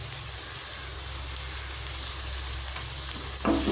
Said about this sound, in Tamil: 2 பெரிய வெங்காயம் பொடிசாக கட் பண்ணி வச்சுருக்கேன், அதை போட்டுக்கிறேன்.